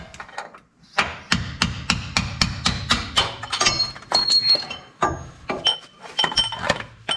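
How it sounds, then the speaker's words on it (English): A hammer repeatedly taps a bolt out of a Jeep's upper control arm mount, giving a steady series of sharp metallic clinks, close and fairly loud, with brief pauses between bursts of strikes. "A little tap of the hammer, and I got that bolt removed."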